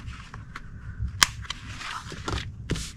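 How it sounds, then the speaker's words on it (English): A corner rounder punch clips the corners of cardstock, several sharp snapping clicks spaced irregularly, one notably louder, with soft handling rustles of paper between them. "So we're going to round the corners of this."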